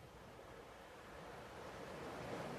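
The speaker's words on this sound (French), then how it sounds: "c'est le son des vagues" Ocean waves washing onto a beach as the tide comes in, heard as a soft, continuous wash of surf that swells slightly toward the end, faint and unbroken by voices.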